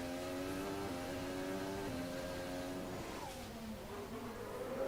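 Mercedes Formula 1 car engine during practice at the Monaco Grand Prix, a high, continuous whine that rises and shifts pitch through gear changes, heard from trackside at moderate distance.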